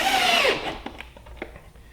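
A power drill drives pocket screws into a wooden table, one short high whine that spins down quickly, followed by a few light knocks and clicks close to the microphone.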